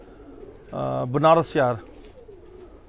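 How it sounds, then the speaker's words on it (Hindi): Khaki (Kashniya) pigeons coo in a short, close, rolling burst of two or three throaty notes, with a voice speaking just before. "हम इनके खाकी कहते हैं, वहाँ पर इनको काशनीय कबूतर कहते हैं।"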